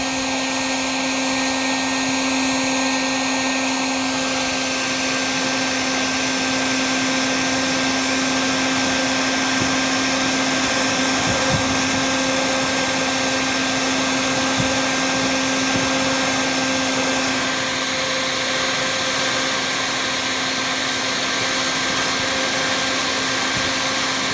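A basic heat gun fitted with a nozzle adapter blows a steady, loud whooshing roar with a constant tonal whine as it melts plastic for welding, holding unchanged throughout with no talk.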